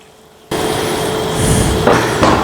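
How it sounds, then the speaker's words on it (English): Pasta and a splash of its cooking water tip into a hot pan of creamy mushroom sauce, bursting into a sudden loud, close hissing rush that holds steady. "Add our pasta straight out of the pan into there."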